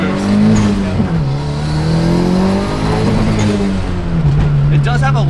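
A turbocharged four-cylinder Honda accelerates hard, its engine note climbing steadily with a brief dip at a shift, loud and close from inside the car over several seconds.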